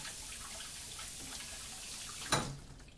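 Tap water runs steadily to rinse the inside of a sweet pepper, a faint continuous splashing hiss with one brief louder splash near the end.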